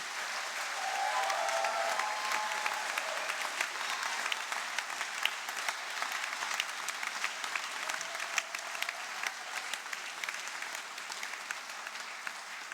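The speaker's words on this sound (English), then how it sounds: "I think all of you deserve a round of applause" Graduates at a University of South Wales graduation ceremony applaud the university staff, a steady, dense wash of clapping from a large seated crowd that holds for several seconds without talk.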